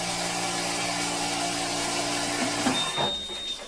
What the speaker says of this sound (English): It's the ice machine.